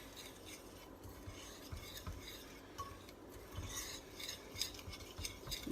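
A powdery bath bomb mixture scrapes and rustles in a bowl as it is stirred, with faint, close gritty rubbing strokes in an irregular rhythm.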